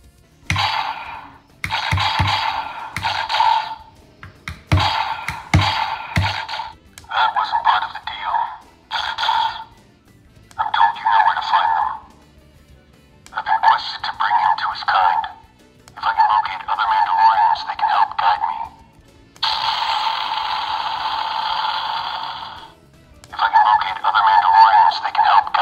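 Electronic Darth Vader Star Wars Power Force figure from Disney playing recorded phrases and sound effects in a series of loud, near bursts separated by short pauses.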